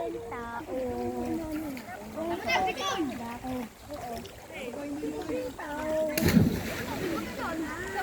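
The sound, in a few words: people jumping from rock splashing into water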